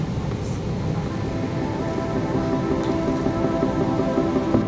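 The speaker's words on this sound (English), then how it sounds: "Even as we touched down, the rain was pouring heavily" Steady, dense roar of heavy rain mixed with the low rumble of an EVA Air Boeing 777 rolling down the runway after landing in Singapore, constant and loud throughout.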